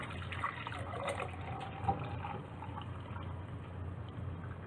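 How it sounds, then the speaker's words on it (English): Hot boiling borax water is poured into cups for a crystal candy cane experiment, a steady close trickle and splash of liquid running for several seconds with a low background hum. "I'm going to take my hot boiling borax water, and I'm going to pour it into the cups."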